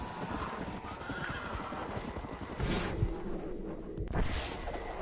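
Horse hooves clip-clopping at a gallop with whinnying neighs in Red Dead Redemption: Undead Nightmare, a steady hoofbeat rhythm running throughout with louder bursts near the middle and end.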